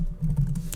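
A few quick keyboard taps while entering numbers into a damage calculator, close and soft over a low steady hum.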